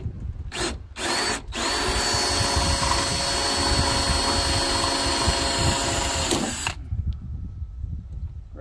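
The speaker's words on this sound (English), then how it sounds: "That's a Harbor Freight drill bit." A power drill fitted with a Harbor Freight bit bores into a door, starting with a couple of brief bursts before one long, loud, steady whine that cuts off abruptly, followed by quieter room noise.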